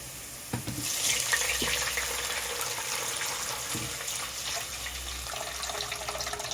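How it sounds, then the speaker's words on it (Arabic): Water pours steadily into a pot of Egyptian rice, a close, continuous splashing rush that starts after a couple of light knocks and keeps going to the end. "انزل كده هو ميه، مقدار الرز بتاعنا المصري كوبايه بكوبايه"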